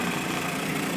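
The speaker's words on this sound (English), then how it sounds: "Put the top on your food processor, and now we're gonna shred up our russet potatoes" A food processor with a shredder attachment grinds through unpeeled russet potatoes, a steady close motor drone with a dense whirring buzz and no pauses.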